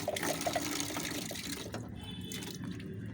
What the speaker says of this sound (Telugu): ఇట్లా కొంచెం వాటర్ ఇచ్చేస్తాను.